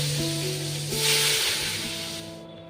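Eggplant slices fry in hot mustard oil with a steady, close sizzle that swells briefly in the middle, joined by faint tonal hum and a few light utensil touches.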